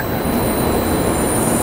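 A Japanese bullet train rushes into the platform loudly and steadily, a dense rumbling roar with high metallic whine, close by with no pause.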